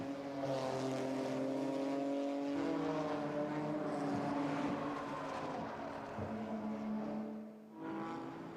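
BMW GT4 race car passing on the Jeddah circuit during pre-qualifying, its engine note rising and falling through gear changes as it sweeps by, loud and close with a clear pitch shift, no talk over it.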